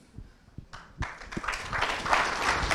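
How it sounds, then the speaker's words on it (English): Audience applause following a talk at a development conference panel, starting with a few scattered claps and building into steady, dense clapping from a crowd that fills the room. "A round of applause, please"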